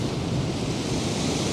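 Turbulent Irish Sea waves off the Blackpool seafront, a steady, broad roar of surf mixed with heavy wind buffeting the microphone, with no voices.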